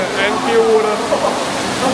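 Water pours and splashes steadily in a dark, fully immersive art installation at teamLab Planets in Japan, a soft continuous rush heard under people talking.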